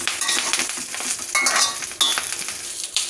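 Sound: frying curry leaves in a pan

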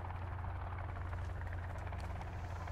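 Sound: helicopter flying overhead in video game Sons of the Forest

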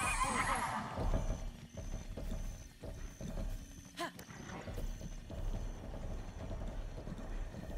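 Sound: horse (Lord of the Mountain) galloping, Zelda Breath of the Wild video game

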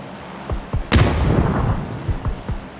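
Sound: grenade explosion in video game PUBG

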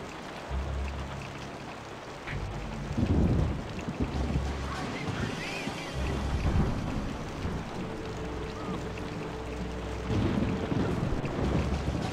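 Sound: rain and thunder in the video game Helldorado

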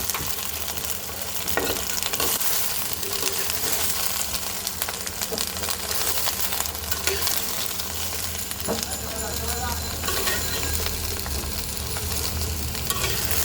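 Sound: vegetables lightly frying in a pan

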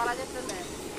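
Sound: onions frying in a pan with salt

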